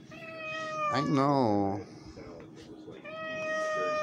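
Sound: stray cat meowing

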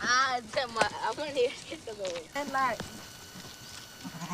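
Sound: sheep bleating

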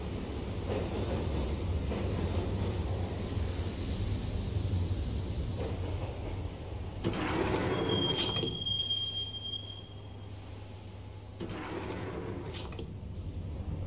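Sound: train riding into Roscoe Street Station, from video game Max Payne

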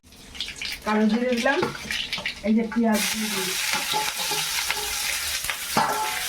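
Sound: frying nigella seeds, onion and green chili in oil

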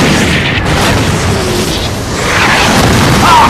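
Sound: bomb explosion in Call of Duty 3 video game

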